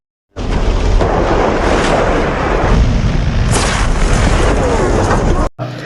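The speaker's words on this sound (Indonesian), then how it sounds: "sayap pesawat Mark terkena sambaran petir yang jelas saja membuat mereka panik" Lightning strikes an airplane wing in flight with a loud, sustained thunderous boom and crackling rumble that fills about five seconds, with a sharper burst midway, before cutting off abruptly.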